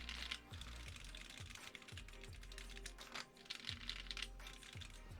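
Keycaps being pulled and pressed onto a mechanical keyboard built with Silk Yellow switches, giving clustered plastic clicks and taps in an irregular rhythm, close and quiet.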